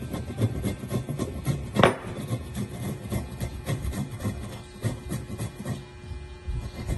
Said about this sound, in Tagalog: Luya, ito po yung luya. Kuskusin natin po.